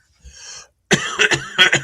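Two bursts of coughing from one person, a short muffled throat sound first, then a loud close run of harsh hacking coughs in quick succession.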